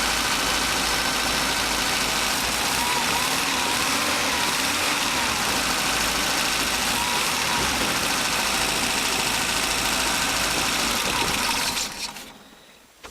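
A Mitsubishi van with a carburettor and automatic choke idles right after a cold start, a steady close engine hum holding for about twelve seconds before cutting off abruptly, with no talking over it.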